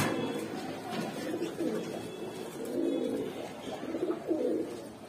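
Pigeons for sale in a shop coo in repeated low rolling bursts, several birds overlapping at moderate volume in a close indoor space with steady background hum.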